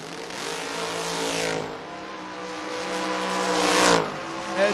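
Drag race between a Vega wagon and a Mustang at a door car event: a loud engine screams and revs up, drops back, then climbs again to a sharp peak near the end, alone with no talk.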